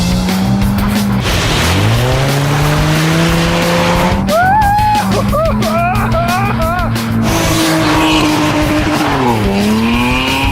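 A BMW E30 325i, rear-wheel drive, is driven hard at a rally school in New Hampshire. Its engine loudly rises and falls through the revs while the tires squeal through a skid in the middle.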